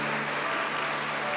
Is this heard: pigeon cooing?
no